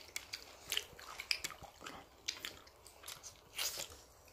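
Someone bites and chews a mandarin orange close up, a series of small, juicy squishes and soft crunchy bites at an uneven rhythm, quiet and alone with no talking.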